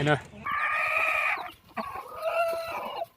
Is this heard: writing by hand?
no